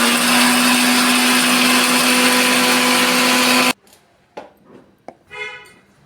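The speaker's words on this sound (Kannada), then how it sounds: "ಇದನ್ನ ಈಗ ಮುಚ್ಚಳ ಮುಚ್ಚಿ ಸ್ವಲ್ಪ ರವೆ ಥರ ಇದನ್ನು ಗ್ರ್ಯಾಂಡ್ ಮಾಡ್ಕೊಂಡ ಬರೋಣ್ರಿ." A mixer grinder coarsely grinds cashews and sugar with a loud, steady motor whine that cuts off abruptly, followed by a few clatters and knocks as the jar settles.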